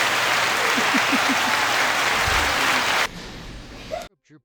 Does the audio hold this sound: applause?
yes